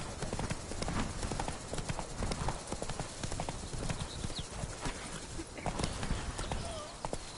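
Horse hooves gallop in a steady rapid clip-clop rhythm while riding in a video game on PS4, the pounding close and continuous throughout, with faint game ambience and occasional background noise.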